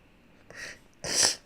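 A person sneezes indoors, a short breathy intake followed by a louder, sharper burst, close and with no talking.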